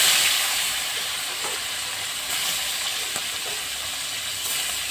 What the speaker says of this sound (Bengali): এবার আমি একইভাবে আরও মাছগুলোকে ভেজে নেব।